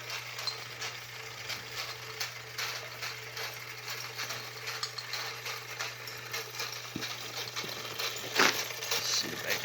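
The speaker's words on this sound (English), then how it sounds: "this is probably the only steam engine that I'll ever be able to afford to own" A small model steam engine runs with a steady mechanical whir, a low hum and quick ratcheting clicks. It sounds fairly quiet and close, with a slightly louder clatter near the end.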